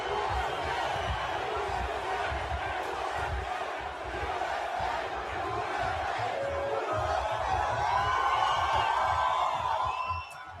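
A large outdoor rally crowd roars and chants continuously, voices massed and loud with whoops rising over the din, filling the whole stretch before easing slightly at the end.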